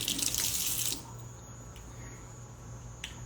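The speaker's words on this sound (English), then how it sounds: "So I'm going to fill it up with the water." Tap water runs into a pot being salted for brown stewed chicken, a close, bright gush for about a second before it cuts off, leaving a quiet room hum and a faint drip near the end.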